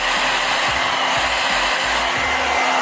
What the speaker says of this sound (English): I just use my blow dryer and it shows my part.